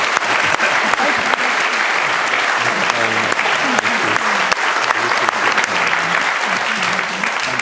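Loud, sustained clapping from a room full of people at an event honouring infected blood campaigners, continuous and dense throughout with some voices mixed in.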